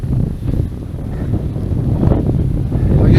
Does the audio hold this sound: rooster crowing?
no